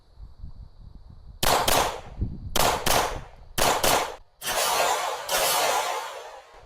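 Pistol gunshots during IPSC competition practice: a burst of loud, sharp cracks close by, fired in quick clusters with a ringing tail, and a steady high tone in the background between strings.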